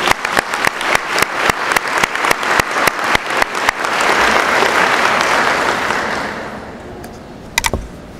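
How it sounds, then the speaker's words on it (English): An audience at a school convocation claps in a rhythmic beat, which then swells into a loud, sustained burst of applause before tapering off. "We have one more round of applause for both our honorees."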